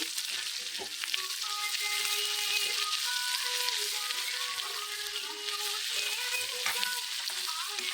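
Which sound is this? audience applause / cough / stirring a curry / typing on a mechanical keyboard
stirring a curry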